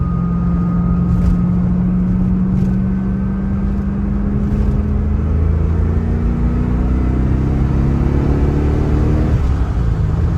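A 1993 Corvette Callaway Supernatural 450 engine revs smoothly upward in a steady rising whine, loud and close, with road rumble underneath and a brief dip near the end.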